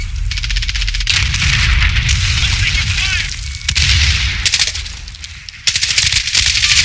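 Rapid automatic gunfire and booming blasts from a Call of Duty match with a 5.56 rifle, loud and dense, running in bursts with brief lulls and sharp bursts near the end.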